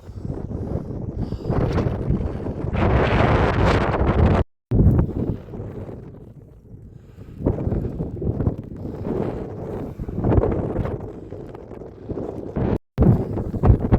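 Strong wind buffets the microphone on a steep mountain path up Mount Snowdon, roaring in loud gusts that rise and fall with two brief drops, no voices heard.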